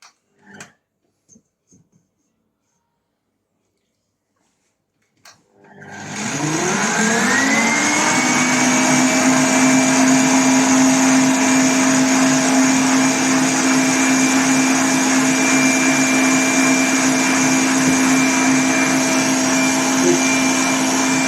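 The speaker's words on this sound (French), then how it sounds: "l'appareil fait un drôle de bruit" A loud, steady mechanical whirring hum starts after a few faint clicks and runs on unchanged, a faulty small kitchen appliance motor grinding with a rough, droning tone.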